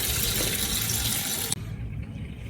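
An octopus rinsed under a running kitchen tap, a steady close hiss of water that cuts off abruptly with a sharp click as the tap shuts, leaving quiet room tone.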